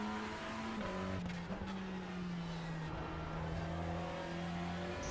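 Steady drone of a Honda race car engine in a racing video game at Brands Hatch, heard from inside the cockpit, with shifting engine pitch as gears change and no talking.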